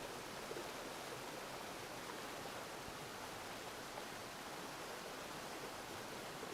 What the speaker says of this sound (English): the water is flowing through the dam downstream